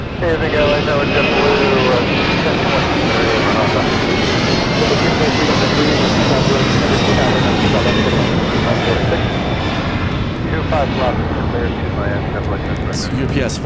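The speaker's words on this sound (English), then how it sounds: "It's UPS Flight 903 headed to Louisville on a 767-300 ER." A UPS Boeing 767-300ER jet at Los Angeles International Airport gives a loud, steady engine roar that holds throughout, broad and rumbling, as if passing fairly close.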